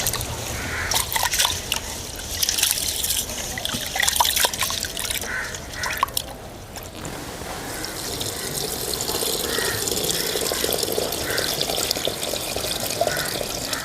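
Basmati rice is washed in water for chicken dum biryani: sloshing, swirling and trickling water with drips and light rice rattles, close and continuous, the swishing growing steadier in the second half.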